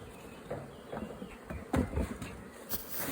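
Honey bees buzz around a beekeeper's site, a fluctuating drone with individual insects passing close by, moderately loud, with no voices.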